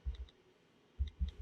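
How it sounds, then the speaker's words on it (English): Fingers tapping on an iPad Mini touchscreen keyboard, a few soft close taps in two quick clusters with a short pause between. "I'm also going to do some typing."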